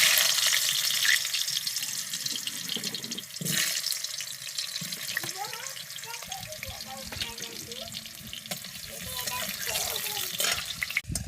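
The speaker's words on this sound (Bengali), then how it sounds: "তেলটা গরম হয়ে গেলে তার মধ্যে আলুগুলো ছেড়ে দেবে।" Potatoes fry in hot oil in a karahi, giving a steady, close, loud sizzling hiss that carries through the whole stretch with a few brief clatters.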